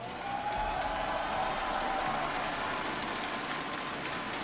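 A large esports arena audience cheers and applauds at the Hearthstone World Championship finals at BlizzCon, a dense, steady wash of clapping and crowd roar that holds evenly throughout.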